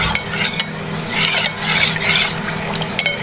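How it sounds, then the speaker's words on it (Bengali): A spoon stirs powdered milk into milk for a pudding, producing continuous close scraping and rasping against the bowl with faint clinks, loud and alone without any voices. "এই যে গুঁড়া দুধ দিয়ে এখন নেড়ে নিচ্ছি।"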